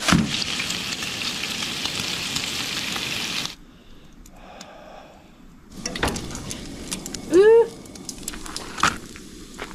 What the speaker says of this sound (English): So the first thing we're cooking, or the first step, is some bacon.